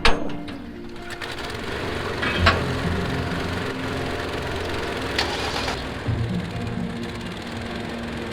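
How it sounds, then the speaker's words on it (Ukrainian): A motor on a river cable ferry crossing the Dniester runs steadily, winding the cable with a continuous droning engine note, heard close with a few brief knocks and clanks along the way. "Робиться завдяки мотору, який намотує на трос."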